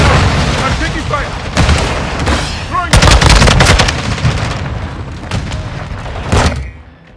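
Rapid bursts of gunfire and booming shots in a Call of Duty: Modern Warfare II multiplayer match, loud and dense with sharp cracks and automatic fire, mixed with game voice callouts.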